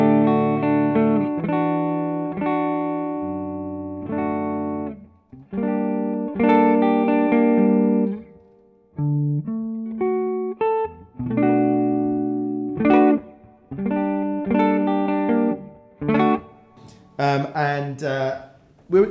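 Electric guitar played clean with no pedals, chords and single notes ringing clearly in a bright, sustained tone with short pauses between phrases, upfront and alone.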